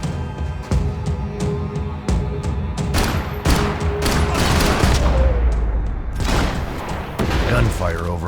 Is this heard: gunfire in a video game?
yes